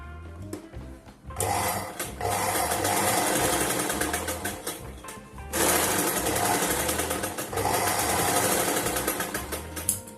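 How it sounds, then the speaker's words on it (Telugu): A sewing machine runs steady and fast in two long bursts, stitching along the edge of a lehenga, its close rhythmic mechanical chatter filling the space with a brief pause between runs. "ఇప్పుడు ఇవి రెండు వీటి మీద కూడా ఒక ఎడ్జ్లో ఒక స్టిచ్ వేసుకుందాము"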